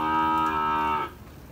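A large, well-kept dairy cow moos once during milking, a loud, close, drawn-out call that stops abruptly, leaving quiet farm background.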